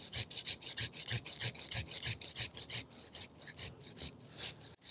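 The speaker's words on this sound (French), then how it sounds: "Je vais être obligé de prendre ma scie" A hand saw rasps back and forth through a fruit tree branch in quick, even strokes, close up, with no talking.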